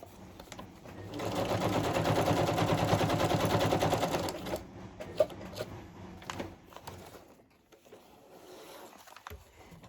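A sewing machine runs in one long, loud, steady stitching burst while making craft clusters, then stops, leaving softer handling noises and scattered clicks.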